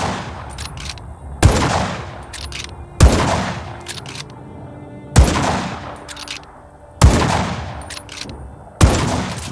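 Gunfire in the video game Just Cause 3: heavy single shots boom at slow, even intervals of about a second and a half, each followed by a rumbling decay, with no talking between them.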